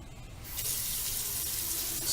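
Water gushes steadily after a valve is opened, a broad hissing rush that starts abruptly and continues at a constant, fairly loud level.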